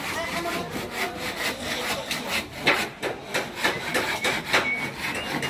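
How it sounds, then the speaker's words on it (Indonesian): Hand saw cutting wood in rapid back-and-forth strokes, a steady rasping rhythm of about two strokes per second, close and fairly loud with outdoor background noise during preparations for a Toraja Rambu Solo' funeral in Tongko. "Oh ini Om lagi main gergaji nih."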